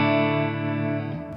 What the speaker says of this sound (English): When you cut the reverb off, it'll still continue to trail on.